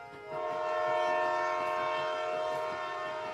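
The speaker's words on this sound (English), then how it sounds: "The train begins to slow." A train slowing down, its loud drawn-out tonal squeal of braking wheels or horn holding steady over a rumbling low roar, close and continuous with no talk.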